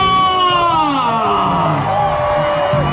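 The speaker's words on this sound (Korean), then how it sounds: "박수를 보내주시기 바라겠습니다" A baseball crowd at a Doosan game breaks into loud, sustained cheering and whooping, a dense mass of voices filling the whole stretch with no break.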